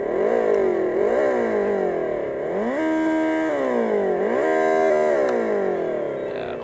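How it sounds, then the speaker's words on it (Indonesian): The Rakata NX3 electric maxi-scooter plays an artificial petrol-engine and exhaust sound through a speaker at maximum volume. The synthetic engine note rises and falls repeatedly like revving, with a steady hum underneath, heard close and without talk. "dia punya suara artifisial layaknya motor bensin dan suara knalpot ya"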